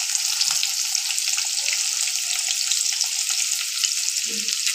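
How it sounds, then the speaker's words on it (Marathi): Finely chopped onions frying in a pan for a besan onion curry give a loud, continuous crackling sizzle that holds steady throughout, close by, with no voices. "कांदा चांगला परतून घेऊ।"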